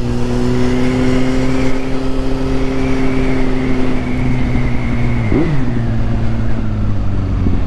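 Kawasaki Z800 motorcycle engine drones steadily and loudly throughout while riding, with a brief pitch dip near the end before it settles back to a sustained hum.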